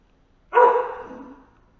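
A pet dog gives a single sharp bark indoors, close and fairly loud, with a short fading tail into quiet.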